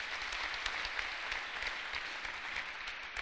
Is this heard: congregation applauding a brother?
yes